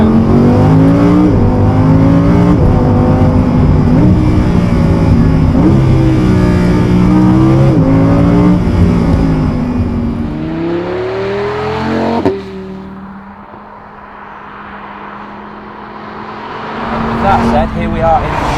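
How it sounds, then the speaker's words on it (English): Lamborghini Huracan engine revving hard under acceleration, loud rising and stepping engine tones through gear changes for about twelve seconds before dropping back to a quieter rumble that swells again near the end. "This is how easy it is to go fast in a Huracan."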